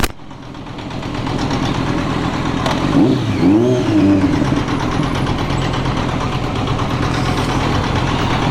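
A Kawasaki Z900 motorcycle engine runs close by at a petrol pump with a loud, steady hum and a brief rising rev midway before settling back.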